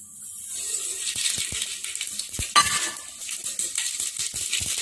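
Mustard and cumin seeds dropped into hot oil in a pan as a tempering for pappu charu, giving a burst of crackling, popping and light clinking that settles into scattered pops and sizzle.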